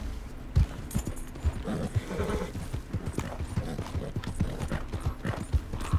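Clip-clop of horse hooves trotting steadily in Red Dead Redemption 2, in a rhythmic pattern, close and fairly loud, with an occasional whinny and no talking.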